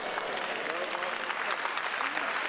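A church congregation applauds during a sermon, dense and sustained clapping at moderate loudness throughout the moment.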